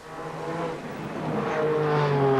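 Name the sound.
race cars warming up engines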